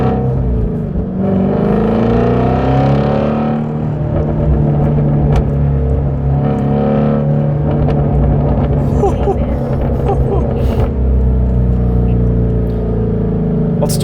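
Ford Mustang exhaust note from a Shelby GT350 or 10-speed Mustang GT while driving, a steady low rumble with rising and falling engine pitch, continuous and close.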